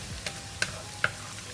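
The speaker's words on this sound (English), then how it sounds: "We're going to fry the garlic until brown, and we want to have a crispy garlic today." Garlic frying until crisp in about five tablespoons of cooking oil in a pan, a soft steady sizzle broken by three sharp spoon taps against the pan.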